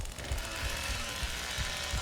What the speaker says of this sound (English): Let's get our chainsaw back up.